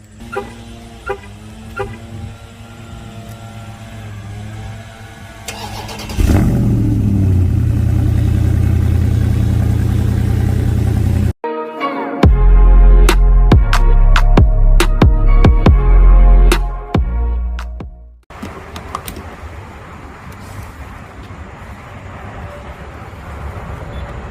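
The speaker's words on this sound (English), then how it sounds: "Get a cold start real quick." A 2021 Dodge Charger Scat Pack with a muffler delete cold-starts, its engine catching with a sudden loud roar that holds a high idle, then revs hard and loud before settling back to a rough, quieter idle.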